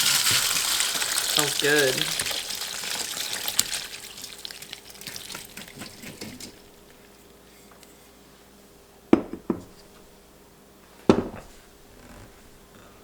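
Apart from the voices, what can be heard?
straining fermented pepper brine through a strainer into a bowl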